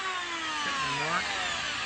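An electric planer tapers a piece of wood in a short, steady, high-pitched whirring pass with a shifting tone, fairly close and without speech.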